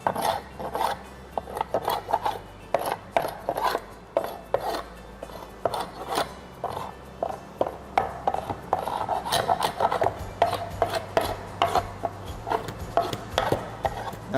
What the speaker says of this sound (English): scrape all the tall glue off of this board